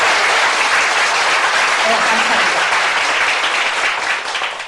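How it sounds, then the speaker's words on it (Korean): Audience applause welcomes newcomers at a meeting, a thick, continuous burst of many hands clapping at close range that tapers slightly at the end, with a short spoken thanks over it. "우리 새로 오신 분들을 위해서 환영의 박수 한번 부탁합니다"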